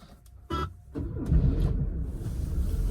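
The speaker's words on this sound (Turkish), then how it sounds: "Çalıştırdık arabamızı." A car engine cranks and starts after a couple of short clicks, settling into a steady, close idling rumble.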